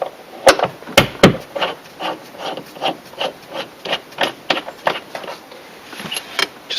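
A 17mm spanner works a seat belt bolt loose inside an Aston Martin DB7, giving a close, rhythmic series of dry rasping clicks, with a few sharp louder snaps near the start.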